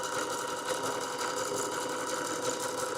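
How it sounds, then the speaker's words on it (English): A sewing machine runs continuously with a dense, steady mechanical whir and rattle, loud and close, holding an even level throughout without pauses or speech. "get this machine sewing"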